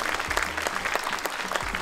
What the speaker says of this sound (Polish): wielkie brawa dla autorów